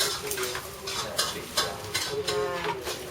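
Mushrooms sizzling in hot oil in a pan, stirred with a utensil, steady frying hiss with scraping strokes, fairly close and alone.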